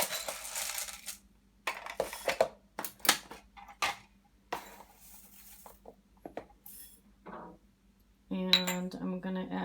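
Dark and light flax seeds are mixed in a bowl, giving a soft scattered rattle and patter of small grains against the bowl. Faint clinks and taps follow, with a brief louder clattering near the end, close and quiet.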